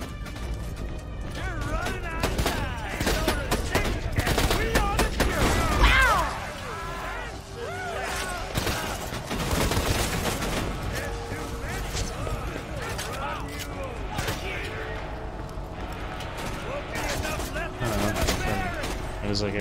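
Rapid bursts of gunfire crackle through a Borderlands 2 firefight, dense volleys clustered in the first half then scattered shots later, mixed with mechanical clanks and players chatting over the action.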